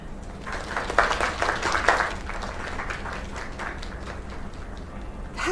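Crowd applause in the video game Lake, a moderate burst of clapping peaking early, then settling into a softer, thinner patter with background murmur, fairly distant.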